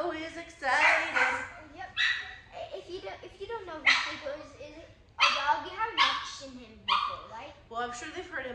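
A small excited dog yips and barks repeatedly indoors, with whimpering and high-pitched whining between the barks, close and fairly loud.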